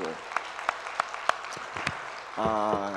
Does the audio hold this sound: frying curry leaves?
no